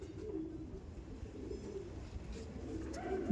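Andhra pigeons, a male and female pair, cooing softly at a distance in a low, steady murmur over background hum for a few seconds.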